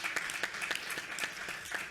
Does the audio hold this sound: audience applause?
yes